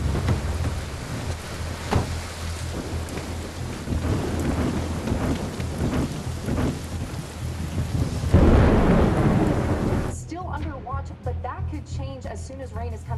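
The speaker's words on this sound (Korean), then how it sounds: "비가 내립니다. 빗소리 때문에 소음이 들리지 않으니 최적의 조건이죠." Heavy rain pours down hard and continuously during a thunderstorm, with deep rumbling thunder underneath. The rain drops away near the end, and a voice talks over it.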